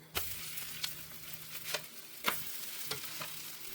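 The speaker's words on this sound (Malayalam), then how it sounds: "നമ്മൾ നെയ്യൊന്ന് സ്വല്പം ഒന്ന് ഒഴിച്ചു കൊടുക്കാം തിരിച്ചിട്ട് കൊടുക്കാം" Barley dosa with ghee sizzling on a hot pan, a quiet steady frying hiss with several soft scraping or tapping knocks of a spatula, close and low in level.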